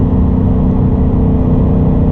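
Steady car engine drone with road and wind rumble as the car speeds up past 120 on a highway, loud and continuous with no talk.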